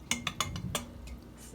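Pancake batter is mixed in a bowl with a few sharp utensil clinks against the bowl in quick succession, close up, then fading into quieter stirring.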